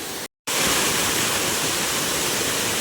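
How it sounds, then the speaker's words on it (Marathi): A high waterfall at Dapoli pours down as a loud, steady roar of broadband rushing water, unbroken apart from a brief gap near the start. "हा उंचावरून पडणारा धबधबा"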